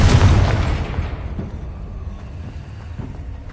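A Confringo spell explosion in Hogwarts Legacy: a loud, deep boom that opens the clip, then rumbles and slowly fades into a low, wind-like roar with faint later thuds.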